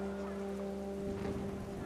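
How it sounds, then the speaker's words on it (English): Heavy rain in the video game What Remains of Edith Finch, a steady broadband downpour with low tonal game music or ambience running beneath it, no talk. "The rain came down in buckets then"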